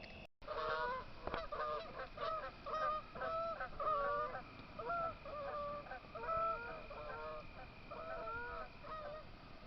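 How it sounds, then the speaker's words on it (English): A flock of geese landing on a pond at night honks repeatedly in a steady, chattering stream, moderately distant, over a faint background hum. "I hear geese hitting the pond."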